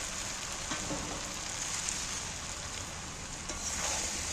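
Fried prawns go into a simmering jackfruit curry in a pan, with a steady soft sizzle and bubbling throughout and faint clinks of stirring, no voices.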